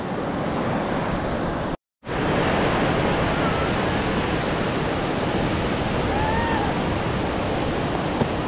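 Steady surf of sea waves washing onto a beach in Goa, a continuous broad roar that stays loud and even throughout, with a brief dropout near the start.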